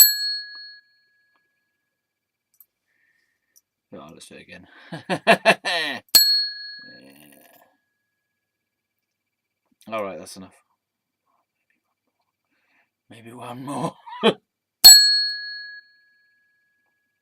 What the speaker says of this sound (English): we can use the ring for service bell um, to get some service